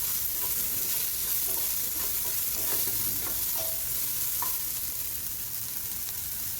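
Ginger, garlic and spices roasting in a pan, a continuous close sizzle with light scattered scrapes of stirring throughout.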